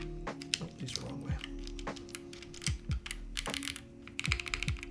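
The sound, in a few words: typing on KBD8x MKIII mechanical keyboard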